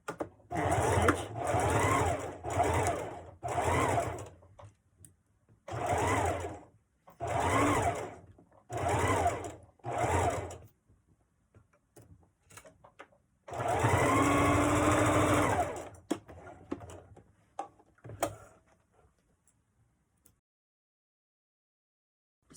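A sewing machine back stitching a fabric mask runs in short, regular bursts of a second or so with pauses between, then one longer run, close and clear with no talk.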